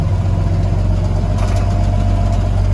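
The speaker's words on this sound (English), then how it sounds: "now he's just idling along real nice" An S160 tractor engine idles smoothly after a carburetor repair, a steady low rumbling drone that stays close and constant throughout with no voices.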